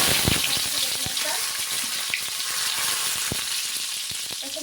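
Cumin seeds sizzle in hot oil for a dal tempering, a loud continuous frying hiss with scattered crackles and pops and occasional stirring clinks.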